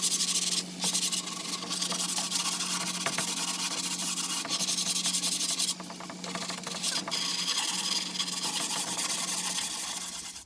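Wood for a bookshelf is sanded in a continuous abrasive rasp with short bursts of rougher scrubbing, steady and fairly close, with no speech.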